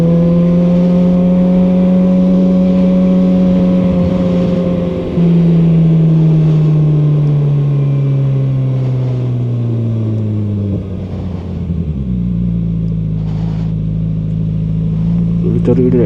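A QJMotor SRK450RR motorcycle on a highway, its engine droning loud and close with rising and falling revs, a steady exhaust note that dips and climbs again, with wind noise underneath.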